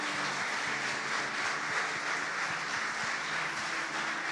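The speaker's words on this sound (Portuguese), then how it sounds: "Aplauda ao Senhor bem forte nessa noite" Dense, even applause from a church congregation during an evening service fills the whole stretch at a moderate distance, with no clear break and little talk heard over it.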